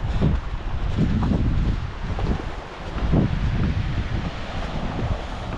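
Strong waves roll onto the beach at Barry Island, heard as rough, surging surf mixed with heavy wind buffeting the microphone, swelling and easing in uneven gusts.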